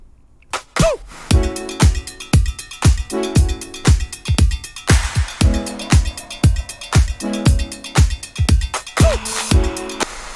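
A programmed drum loop punches out a steady beat of sharp kicks and snappy claps, some bigger reverb-washed claps and extra percussion hits layered in, loud and upfront with brief tonal blips between hits.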